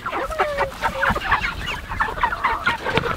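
Several chickens cluck and chatter continuously at close range, a busy overlapping flock sound with short repeated calls.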